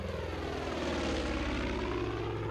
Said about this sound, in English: So right now we are being chased by this plane.